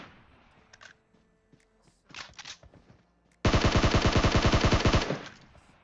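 Scattered faint shots and clatter in PUBG Mobile, then a loud sustained burst of rapid automatic gunfire lasting about a second and a half.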